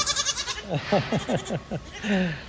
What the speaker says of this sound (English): that ought to make you happy just watching these little goats